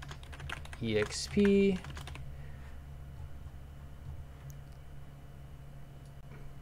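Typing on a computer keyboard during coding in Roblox Studio: a quick cluster of close keystrokes near the start, with a brief spoken word, then a quiet room hum.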